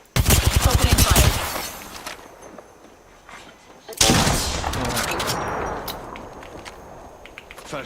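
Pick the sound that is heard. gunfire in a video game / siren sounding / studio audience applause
gunfire in a video game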